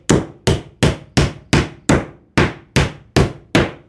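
Hammer strikes driving nails into timber framing for a solar power shed wall, nine sharp evenly spaced blows about half a second apart, loud and close, with no talk.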